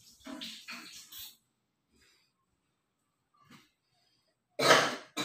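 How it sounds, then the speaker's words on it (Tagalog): A few soft sounds early on, then near silence, ending with one loud, abrupt cough close by. "May ubo na yung kasama ko."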